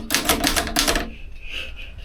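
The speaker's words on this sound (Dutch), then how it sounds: "Hij gaat gewoon typen." Rapid typing on a keyboard, close and loud, with a steady burst of key clicks that stops abruptly after about a second, leaving a low background hum.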